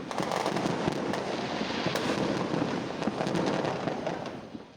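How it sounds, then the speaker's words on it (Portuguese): Dense New Year's Eve fireworks crackle and pop continuously, a loud barrage of overlapping bangs mixed with real gunshots as sharper reports. "Imagens gravadas na noite do Réveillon mostram um barulho de fogos misturado ao de tiros."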